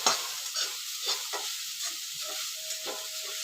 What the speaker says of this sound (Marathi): त्याला हलकं हलकं खोबरं गरम करून घ्यायचं